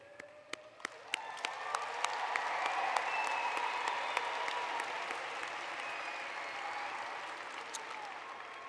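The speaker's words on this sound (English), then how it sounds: "give a round of applause to the faculty who have guided you and to the family and friends who have supported you" A graduation ceremony crowd at Gonzaga University's undergraduate commencement applauds for faculty, family and friends, a soft, distant wash of steady clapping with a few sharper nearby claps standing out, slowly swelling then holding level.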